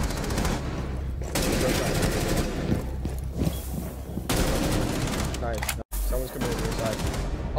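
Rapid gunfire and bursts of shots from a tactical shooter match on the Kanal map, loud and continuous for most of the stretch, with a brief silent gap near the end before firing resumes.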